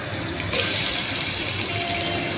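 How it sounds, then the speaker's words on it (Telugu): Water poured into a pot of green-chili country chicken curry, starting abruptly after a brief pause and then a loud, steady close gush that continues to the end. "ఇగో ఇంత వాటర్ వేసుకోవాలి"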